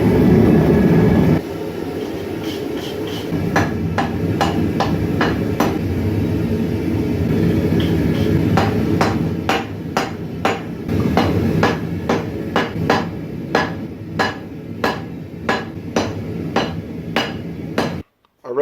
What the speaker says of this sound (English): So I'm just going to forge the bottom one down to the right dimensions